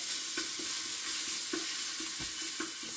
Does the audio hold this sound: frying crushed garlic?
yes